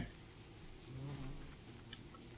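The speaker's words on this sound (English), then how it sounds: "I hear bees" Bees buzz in the Don't Starve game world, a soft steady drone with a brief louder hum midway, faint ambient game sounds around it and no talking.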